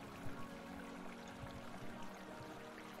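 Flowing water in Vintage Story, a steady trickling and pouring wash that runs continuously at moderate level throughout.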